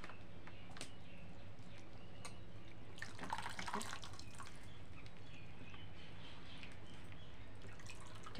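Dishes being washed by hand in a village kitchen, water dripping and splashing steadily with a brief louder burst of running water midway.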